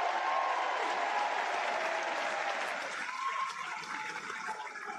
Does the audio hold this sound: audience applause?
yes